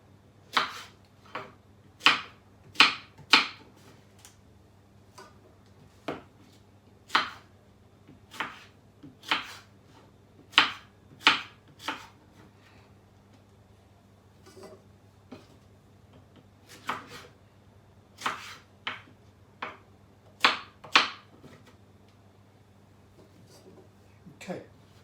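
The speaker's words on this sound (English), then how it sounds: "Just half, and then chop into big chunks" A knife chops vegetables into big chunks on a board for a peanut-sauce dish, with irregular sharp clicks and knocks, some in quick bursts, over a low steady hum.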